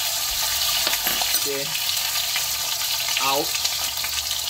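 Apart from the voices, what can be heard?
beef searing in hot oil in a pot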